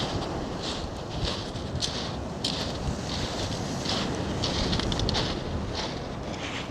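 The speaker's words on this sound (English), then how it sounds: "It's very windy." Strong gusting wind roars steadily across the microphone on a walk in Lowestoft, a dense continuous rumble with brief hissing bursts, loud and unbroken throughout.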